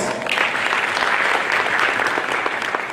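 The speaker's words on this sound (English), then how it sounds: "I think this also deserves a round of applause" A large audience applauds at a national tourism promotion address, dense steady clapping filling the whole stretch at full strength with no voices over it.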